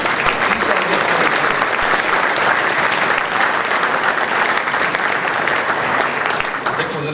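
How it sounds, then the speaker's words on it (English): A high school hall of fame ceremony crowd gives a former state champion wrestler a long round of applause, dense and loud clapping sustained evenly for several seconds before easing slightly at the end. "I'd like to hear you give him a round of applause"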